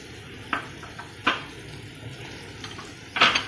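A spoon scrapes and clinks against the pan while a dish is stirred with chili sauce, soy sauce and vinegar, with several short sharp knocks scattered over a soft sizzle.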